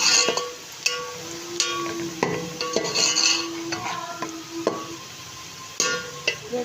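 Onions frying until brown for chicken pulao, stirred with a metal spoon: repeated scrapes and clinks against the pan over a soft, steady sizzle, close and clear.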